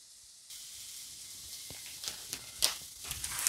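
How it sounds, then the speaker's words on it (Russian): Carrots and onions fry in hot oil in a cauldron-style kazan, a soft steady sizzle and hiss with faint crackles and pops, heard alone and fairly close. "А пока у нас морковь и лук жарятся"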